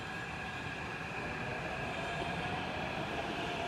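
Train at Nampally railway station in Hyderabad, a steady low rumble of rolling wagons with a faint high tonal whine, continuous and fairly close, with no voices.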